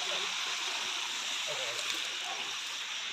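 Steady rushing of a stream flowing at night during a crab-catching outing, a continuous close wash of water with faint voices now and then.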